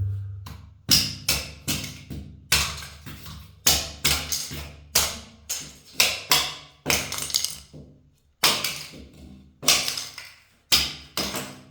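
Plastic tile spacers are knocked out of a newly laid tiled floor, making a steady run of sharp, loud taps and knocks. Each hit has a short ringing decay, about two per second, close up with no talking.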